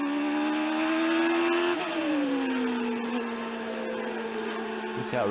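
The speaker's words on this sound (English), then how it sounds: "Listen to the sound of the engine." A high-pitched Formula One car engine drones steadily at the 1994 Spanish Grand Prix, its pitch dipping as revs fall after a gear change, loud and close with no talk.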